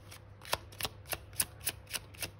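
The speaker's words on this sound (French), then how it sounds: "On va tirer trois cartes." Tarot-style cards being shuffled and drawn by hand: about eight evenly spaced, crisp riffling snaps close to the mic, regular in rhythm, with no speech over them.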